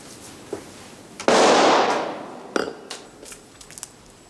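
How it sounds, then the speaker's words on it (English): A single loud gunshot-like bang from inside a dining room, a sharp broadband burst decaying over about a second, followed by a few softer knocks and clicks. "That was a gunshot, sir."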